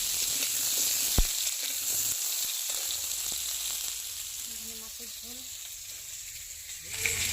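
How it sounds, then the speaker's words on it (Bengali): Potatoes for a meat curry fry in a wok with a soft, steady sizzling hiss, joined by a sharp clack of a utensil and faint background sounds, all fairly quiet. "এখন এই যে মাংসর আলুটা আগে ভেজে নিচ্ছি"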